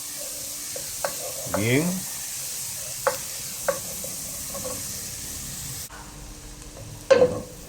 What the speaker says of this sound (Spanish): una vez que ha sofrito bien nuestro aderezo, ya miren, la cebolla está así bien sofrito